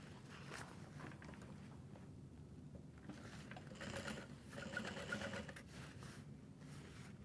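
A home sewing machine top stitches a petite tote bag, a soft steady whirring run that swells and eases in short bursts, close by and fairly quiet, with no speech over it.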